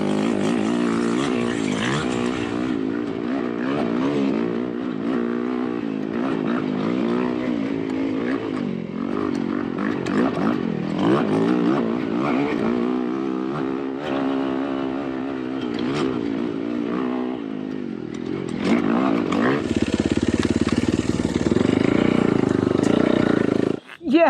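A dirt bike engine roars loud and close throughout, its pitch rising and falling as the rider works the throttle along a favorite trail section, with a sharper surge of revving near the end.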